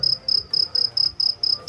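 An insect, stated to be a grasshopper, chirps in a steady rhythmic pulse, about eight evenly spaced high buzzing bursts heard close and alone.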